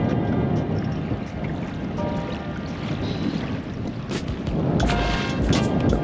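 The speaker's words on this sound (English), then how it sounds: "That wind's picking up." Wind gusts across open water around a fishing boat, producing a constant rough buffeting roar on the microphone with occasional knocks and clatters on the boat, no speech.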